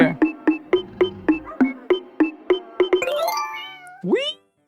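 A cartoonish cat in the Roblox game Build a Zoo meows in a rapid run of about a dozen short, even calls, followed by a rising chime and one longer, sliding meow, with no talk over it.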